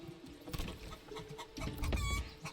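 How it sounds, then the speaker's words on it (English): Chickens cluck softly in the farming game Manor Lords, scattered short clucks over a quiet, busy background. "We're gonna give you chickens because you're gonna give us eggs"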